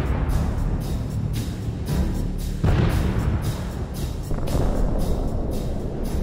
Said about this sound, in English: At least five explosions occurred over such a short distance.